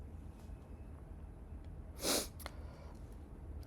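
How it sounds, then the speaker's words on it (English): A single short, sharp sneeze from a man reacting to pollen in Missouri breaks through a quiet room, followed by a faint sniff. "I gotta sneeze again. There is some pollen here"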